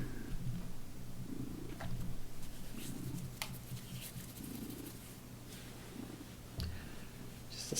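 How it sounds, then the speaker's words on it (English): A cat purring close by in a steady, continuous rumble that keeps going throughout, with a few faint clicks and small sounds over it. "I have a cat with me"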